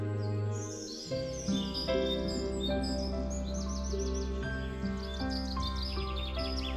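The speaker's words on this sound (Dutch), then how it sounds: "de vogeltjes zongen uit volle borst" Birds sing in a forest for a fairy-tale story, layered chirps and whistled trills repeating over a soft sustained background, fairly close and clear with no talking.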